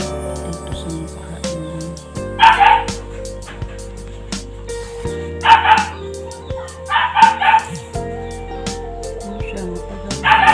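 A dog barks in several short bursts of yips over steady background music, with quieter stretches between the outbursts.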